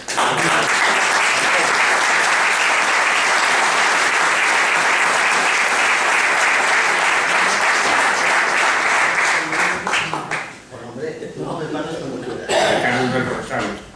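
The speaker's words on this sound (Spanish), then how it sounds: "me gustaría darle un aplauso" An audience gives sustained applause in tribute at a memorial talk for a doctor, a loud, dense roar of clapping that thins out near the end into scattered claps, murmurs, coughs and voices talking.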